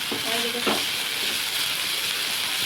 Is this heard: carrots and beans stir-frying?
yes